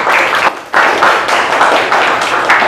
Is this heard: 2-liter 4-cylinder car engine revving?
no